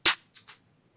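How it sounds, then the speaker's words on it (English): A trap snare drum sample: one sharp, bright crack with a short ring, followed by two faint, soft noisy ticks, with nothing else. "This is what the first snare sounds like."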